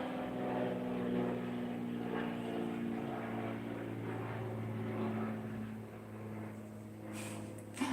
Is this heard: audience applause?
no